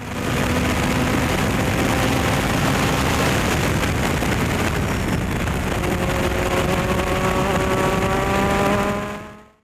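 Race car engine roaring at sustained full throttle down the front straightaway at Buttonwillow Raceway, loud and close throughout with steady rising pitch lines as it accelerates, another car running right behind.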